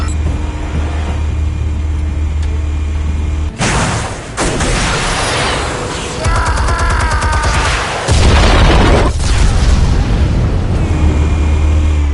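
Explosives detonating in a Batman Telltale game, a loud booming blast bursts in around the middle with crashing debris and rumbling, then a second heavy boom follows, continuing at high volume over low droning.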